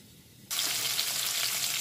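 Cauliflower pieces fry in oil over medium heat, a loud, steady broadband sizzle that bursts in after a quiet half second and holds evenly to the end.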